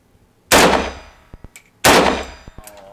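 Two loud AK-47 rifle shots fired at targets outdoors, each a sharp blast with a ringing tail, followed by faint metallic clangs of the bullets striking steel plates.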